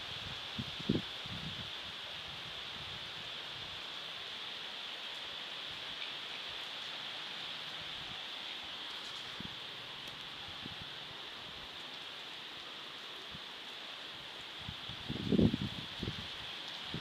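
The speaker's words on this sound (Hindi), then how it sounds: "जोरदार बारिश हो रहा है अभी।" Heavy rain falls outdoors as a steady, dense hiss that never breaks, joined by a few scattered louder thumps and patters.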